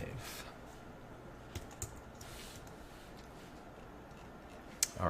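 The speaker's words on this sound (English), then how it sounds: "And I'll just type a hint." Light typing on a computer keyboard comes in a few soft keystrokes and occasional sharper clicks, quiet and close, with faint talking nearby.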